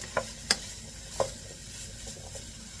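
Food for a simple meal-prep dish sizzles steadily in a pan, with a few sharp spatula scrapes and clicks as it is stirred. It is close and moderately quiet, with no talking.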